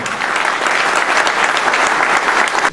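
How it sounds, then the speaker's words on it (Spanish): Loud, steady clapping fills a hall as an audience honors a woman receiving the key to the city at a civic ceremony in Peru. "Un aplauso para ella, por favor."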